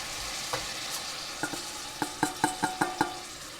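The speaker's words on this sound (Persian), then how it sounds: "پیازداغمون رو میبینید کاملا رنگش تیره شده، آماده است که تو این مرحله من ماشم بهش اضافه کنم." Mung beans are stirred into darkly fried onions in a pan, with a steady sizzle under a series of sharp spoon or spatula knocks that quicken toward the end, close and clear.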